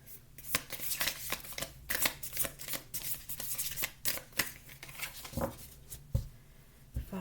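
Tarot cards are shuffled by hand, with a steady close run of riffling and slapping card sounds and a few sharper snaps as cards are drawn, and no voices.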